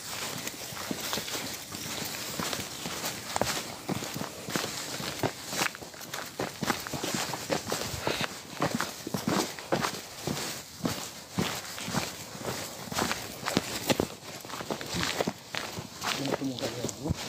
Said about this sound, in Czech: Slyším kroky.